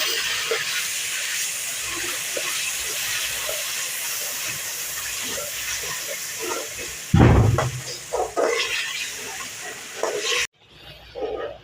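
Four or five chopped green chillies frying with tomatoes in a pulao masala, a steady broad sizzling hiss that surges louder and rougher for a few seconds near the end before cutting off.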